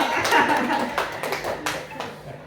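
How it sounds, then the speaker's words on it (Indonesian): An audience at a junior high school event claps briefly. The short, scattered burst of hands is mixed with voices talking over it. "Tepuk tangan dulu"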